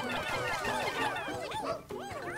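A dog companion in the video game Pikmin 4 barks and yips repeatedly, bright bouncy calls over a busy layer of game music and effects.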